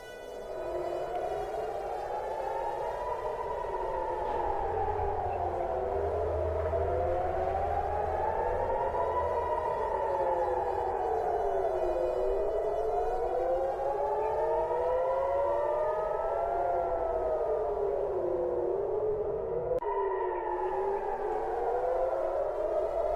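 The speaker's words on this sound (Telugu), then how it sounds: "ప్రతి నిమిషం కూడా సైరన్ మోత మోగుతూనే ఉంది" Air raid sirens wail steadily during strikes in the Middle East, several rising and falling tones overlapping continuously for the whole stretch, loud and sustained with no talk.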